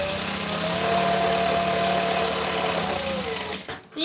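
A sewing machine stitches a bag lining at a joining stitch length, running as a steady continuous whir that stops abruptly near the end.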